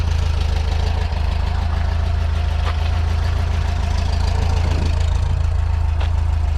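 A 1977 VW Bus engine idles while warming up, a loud, steady low rumble with an even, fast putter and a few faint clicks, running on its own with no talk.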